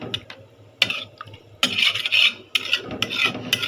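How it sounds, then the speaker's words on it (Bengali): Spice paste being ground by hand on a grinding stone for a chicken and potato curry, rasping strokes in uneven bursts, some short and some drawn out, close and loud, with no talk. "আমি বসে বসে বাটছি মশলা"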